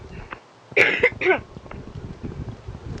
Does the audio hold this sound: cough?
yes